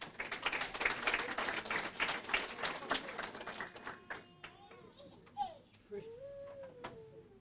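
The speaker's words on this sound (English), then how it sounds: "Don't get lackluster with the clapping." Audience applause at a bursary ceremony for the Cenio Lewis Education Fund: steady clapping through the first half that thins out and fades, with voices and a child's chatter on top.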